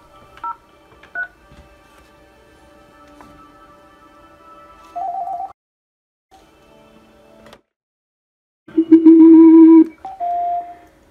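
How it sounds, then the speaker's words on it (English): A Panasonic IP office phone working with an E-MetroTel UCX system transferring a call: a series of short dialing beeps and tones, a pause, then louder ringback and confirmation tones, all clean with no talking. "we'll transfer the call from this Panasonic phone to another phone."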